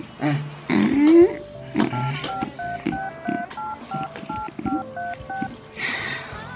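A mobile phone keypad gives a run of short, evenly spaced tones as a number is entered, mixed with brief rustling and handling noise.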